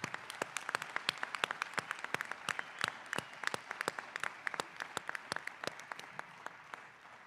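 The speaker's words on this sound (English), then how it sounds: "Can we offer these saints a round of applause because they deserve it?" Scattered audience applause at a master's of social work hooding graduation ceremony, distinct individual claps in a sparse, irregular rhythm at fairly low volume, thinning out toward the end.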